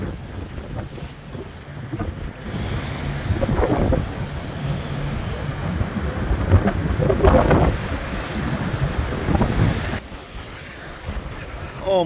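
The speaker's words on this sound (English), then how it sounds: "The storm came in, we can't see anything." Steady heavy rain and gusting wind roar throughout on a boat crossing the North Atlantic, with deep rumbling swells like distant thunder rising and fading under the noise.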